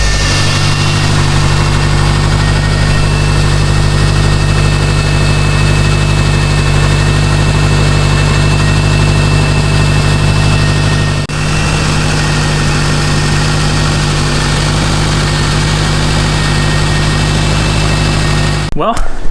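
A Series Grey Subaru STI engine idles steadily while warming up after a coolant system bleed, a loud, close, continuous low rumble with an even tone throughout.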